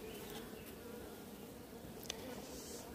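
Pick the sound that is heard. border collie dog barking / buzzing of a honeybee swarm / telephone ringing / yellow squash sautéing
buzzing of a honeybee swarm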